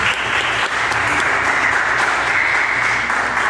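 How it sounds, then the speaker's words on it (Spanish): A church congregation applauds loudly and steadily, a dense wash of clapping that holds for a few seconds with no talk over it. "otro aplauso más fuerte al Señor"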